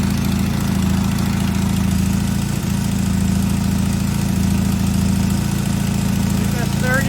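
A 1975 Norton motorcycle engine idles steadily on its first start, a loud, close, even low rumble running unbroken throughout with no pauses.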